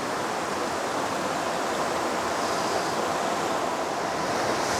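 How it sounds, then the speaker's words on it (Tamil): Water runs steadily at the entrance of a nature spot in Bhutan's Phobjikha Valley, a continuous broadband rush that stays close and even throughout with no talk. "இங்கேருந்து தண்ணி ஓடுது."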